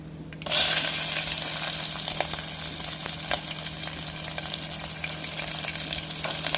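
Chopped onion and green chillies hit hot oil in a tempering, setting off a sudden loud sizzle that settles into a steady close crackle with occasional stirring for several seconds.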